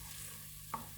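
Rice tipped into a pan of butter, onions and garlic for Italian tomato risotto, with a low steady sizzle and one brief scraping stir near the end, no talking.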